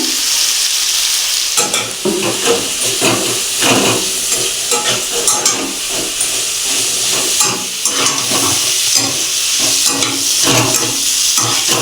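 Potatoes fry in a pan with salt, turmeric and cumin powder for an okra dish, producing a loud, close, continuous hiss and sizzle broken by repeated scraping stir strokes; no one speaks.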